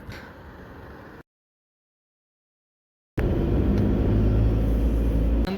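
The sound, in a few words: car arriving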